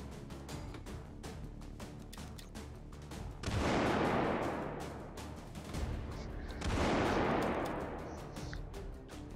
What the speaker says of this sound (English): sit up here atop of your castle and spam grenades